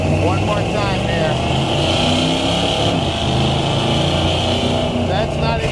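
A 1970 Ford Torino V8 held at a steady throaty rumble with a slight swell on the throttle, loud and close at a car dealership, a voice talking over the engine.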